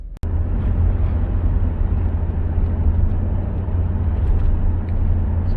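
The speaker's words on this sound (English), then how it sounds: "So now we're going to take it for a road test and look at trans data again." A 2009 GM 4x4 truck with a 4L60 transmission and a torque converter clutch shudder is driven on a road test, giving a loud, steady engine and road drone heard from inside the cab after a brief click at the start.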